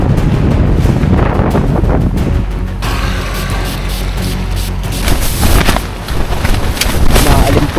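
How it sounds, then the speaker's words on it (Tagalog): Strong mountain wind during a typhoon at the summit of Mt. Napulauan, Ifugao, roars and buffets the microphone almost continuously, loud and close, with a brief lull partway through before the gusts return. "Naalimpuyos yung hangin ah."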